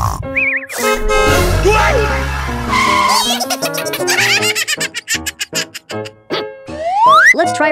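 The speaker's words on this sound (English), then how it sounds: "I found a toy car for us." A toy car in an animated children's cartoon makes playful honking toots and springy boing-like sweeps in quick bursts, with cartoon voices chattering around them.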